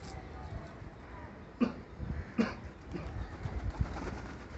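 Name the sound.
pigeons cooing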